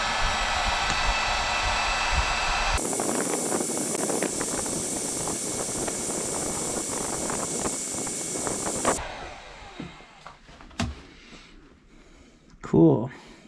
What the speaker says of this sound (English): I just plug my heat gun into that, and then my heat gun just activates when I press the pedal down